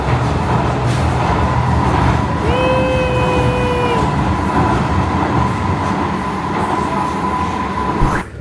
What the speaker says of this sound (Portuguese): Agora a gente tá dirigindo o trem de ré.